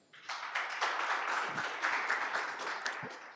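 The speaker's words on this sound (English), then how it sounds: "please welcome him with a round of applause." Conference audience applauding as a company CEO takes the stage at an investment fair, a sustained wash of clapping from a fairly small crowd that swells quickly and then holds steady.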